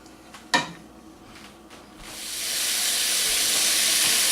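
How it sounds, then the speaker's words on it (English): Ground meat for chili mac frying in a pan, a sharp clatter as it goes in, then a hissing sizzle that swells and holds loud and close, no voices. "as you're frying this, you want to try to break it down into much smaller pieces as it's cooking"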